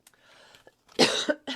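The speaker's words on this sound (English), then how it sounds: "Pardon me for coughing." A couple of harsh, close coughs follow a quiet stretch with a faint breath, loud and abrupt.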